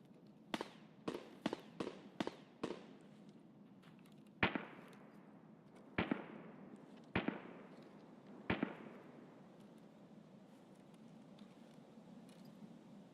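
Gunfire in a video game: a quick run of six sharp shots, then four louder separated blasts with ringing decay, crisp and alone without talk.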